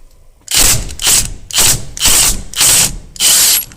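An impact wrench hammers off a 7/8 nut on a square-body truck's steering column in six loud, close rattling bursts separated by brief pauses.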